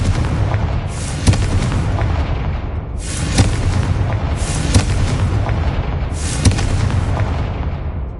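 In the Hogwarts Legacy video game, Confringo blasting spells explode in a room, several heavy booms with rumbling tails spaced a second or two apart, loud and continuous with no speech.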